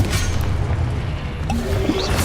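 A Confringo fire-blast spell explodes in Hogwarts Legacy as one heavy, close boom with a crashing rumble that fills the short moment. No one speaks.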